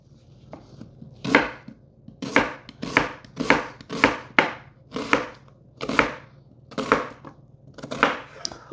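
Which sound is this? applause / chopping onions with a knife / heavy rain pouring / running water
chopping onions with a knife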